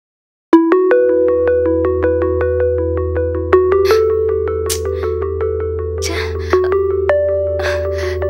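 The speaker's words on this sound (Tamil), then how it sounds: "கர்ணா ஃபோன் பண்ணாரா? நான் கூப்பிடுறேன" A phone ringing tone rings out loud and steady in a Tamil TV serial scene, a repeating electronic harmonic pattern over a constant low hum, with no talking.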